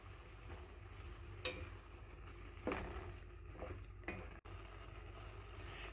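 Beetroot halwa being stirred in a pan as cardamom powder goes in, with a steady frying sizzle and a few brief scraping strokes against the pan, close and fairly quiet with no voices.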